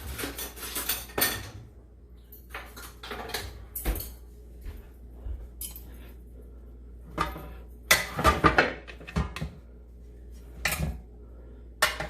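Someone rummages through a kitchen drawer for a utensil to flip steaks in an air fryer, with bursts of clattering metal cutlery and pans between quiet pauses, close by.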